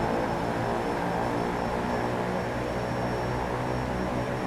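EMB 110 twin-propeller aircraft engines in X-Plane 11 droning loudly and steadily up close, with a continuous throbbing hum and a thin high whine running throughout.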